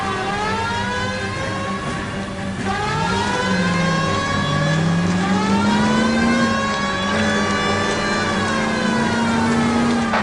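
A car engine revving hard during a police pursuit in the crime game L.A. Noire, its loud droning pitch swooping up and down continuously for several seconds as the car accelerates.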